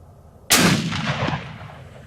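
A single loud, close Ruger Precision Rifle shot fired at a 200-yard range: a sharp crack that breaks out of quiet and then rolls off into a decaying boom and echo lasting over a second.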